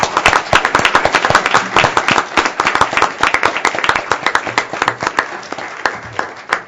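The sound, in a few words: round of applause at the FCC meeting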